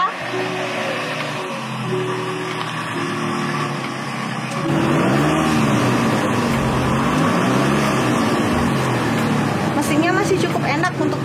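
A 2006 Toyota Camry 2.4 engine idles nearby with a steady low hum; someone talks over it at first, then a louder, rougher broadband rumble takes over for the rest.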